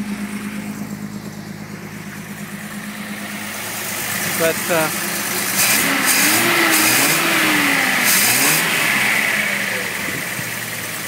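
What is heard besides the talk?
1974 Datsun 260Z engine idling and revving, exhaust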